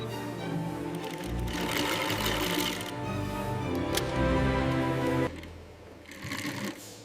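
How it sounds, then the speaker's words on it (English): An industrial sewing machine runs a double row of stitches through a padded leather sneaker tongue in a large shoe factory, a steady loud mechanical whir that pauses briefly midway and drops off near the end. "I secure tongue with double row of stitches."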